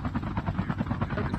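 Helicopter in the Call of Duty Mobile video game, a steady loud rotor thump with rapid blade chop throughout, no talking.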